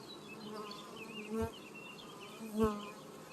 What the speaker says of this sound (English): I love standing here right in the middle of the bees and just all of the crazy sound, how loud it is.